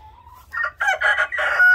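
A rooster crows loudly nearby, one full cock-a-doodle-doo with a rising, broken call, alone against a quiet background.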